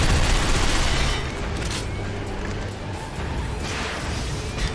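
Gunfire rattles in Binary Domain as shots are aimed at incoming missiles, a loud, dense barrage of rapid bursts and crashes that holds steady with heavier surges at the start and end.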